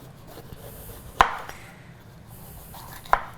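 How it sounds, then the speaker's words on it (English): A knife cutting half a green pepper on a board, with two sharp, separate chops heard up close against quiet background. "next I'm going to cut half a green pepper"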